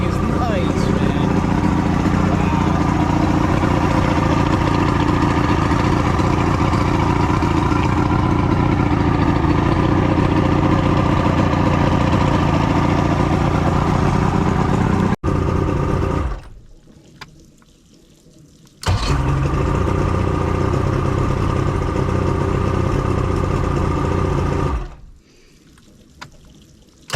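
The engine of a Glastron CV16 boat idles loud and steady nearby for a long stretch, with two short dips to quiet in between. Voices can be heard over the running engine.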